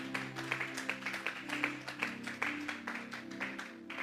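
A church congregation claps together in a steady rhythm, dense repeated palm strikes over music, fairly close and sustained for the whole stretch.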